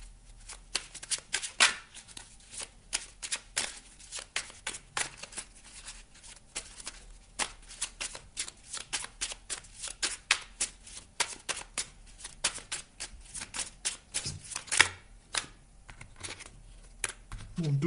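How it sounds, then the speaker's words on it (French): Small Merlin oracle deck of cards shuffled by hand, a run of quick papery riffles and flicks in uneven bursts, close and fairly quiet, with no talk. "On va aller prendre une carte maintenant du petit oracle de Merlin."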